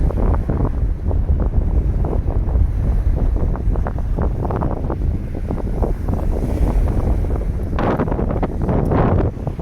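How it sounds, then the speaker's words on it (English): Strong wind buffets the microphone in a constant roar, with crashing waves breaking on the shore at Cape Sable in the Everglades beneath it throughout. "the wind is blistering"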